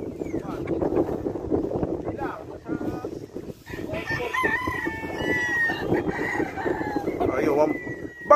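Roosters crow repeatedly and chickens cluck on a farm, fairly close by, with the calls overlapping one another. People talk underneath.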